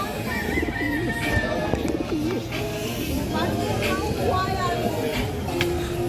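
Racing pigeons coo in soft, low, repeated phrases amid a busy backdrop of other birds and a steady murmur of nearby voices.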